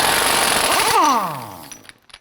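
An impact wrench with a 36mm socket spins off the front axle nut on an Acura TL: a loud, steady burst of rattling hammering for about a second, then a falling whine as the tool winds down and stops.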